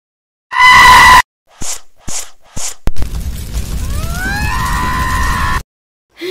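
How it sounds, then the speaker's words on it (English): Loud, sustained high-pitched screaming bursts alone, first a long shrill cry then several short shrieks, followed by a rising whine over a rumbling background in a cartoon scene. "Stop screaming, it's hurting my ears."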